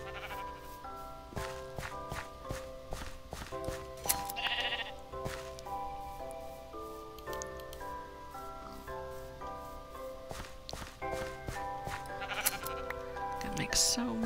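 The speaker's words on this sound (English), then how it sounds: "A gray sheep. Yeah, it's a gray sheep." A gray sheep in a video game bleats repeatedly, with short quavering calls set within steady game music and ambience, at a moderate, fairly quiet level.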